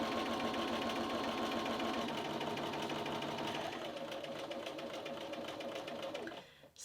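A sewing machine runs steadily and close, stitching a pumpkin quilt top for a fall table runner, with a fast even hum that slows and stops at the end.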